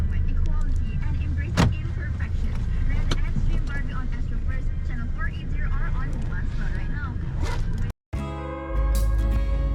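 Steady engine and road rumble fills the cabin of a taxi driving through Kuala Lumpur, continuous throughout with a brief dropout near the end, while people talk over it.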